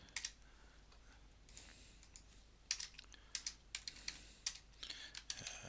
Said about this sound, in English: I'm going to type some information in